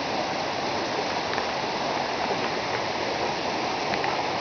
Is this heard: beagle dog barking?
no